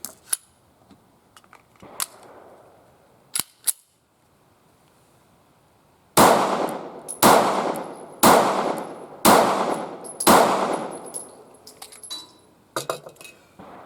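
A Taurus GX4 pistol fires S&B 115-grain ammunition outdoors, about six sharp, loud shots spaced roughly a second apart with ringing decay, preceded by faint metallic clicks and handling.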